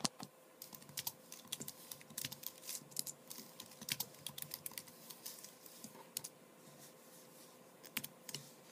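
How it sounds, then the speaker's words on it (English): Someone types on a computer keyboard using only one hand, producing irregular, close clicking keystrokes in uneven bursts with short pauses, quiet and with no talking. "It's hard to type with one hand."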